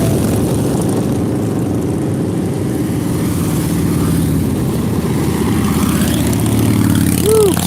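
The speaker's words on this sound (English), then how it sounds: "I love it when they rev the engine." Motorcycle engines at Daytona Bike Week rumble and rev up close, a loud continuous engine drone with rising pitch near the end.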